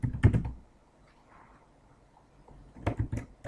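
Keys clack on a computer keyboard in two short, close bursts of rapid typing separated by a quiet pause.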